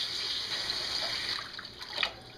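Water is poured into a cooking pan, a steady bright splashing rush that softens and trickles near the end, heard up close without speech.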